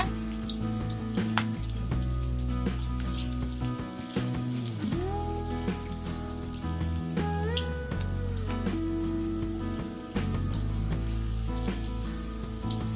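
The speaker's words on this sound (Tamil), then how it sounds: "அடுத்து நம்ம பக்கோடா இதில் போட்டுடலாம்" Raw mango pakoda batter sizzles as it fries in hot oil in a kadai, a steady close crackle with dense spitting pops and a continuous hiss throughout, with no talking.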